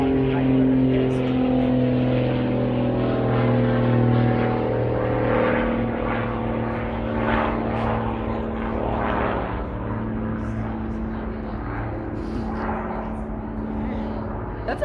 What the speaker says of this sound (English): That's a heli right there.